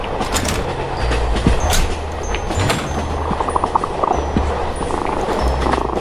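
Interior of a moving passenger train in the horror game Express No. 6, a steady low rumble with rhythmic rail clatter and faint scattered clicks throughout, no speech.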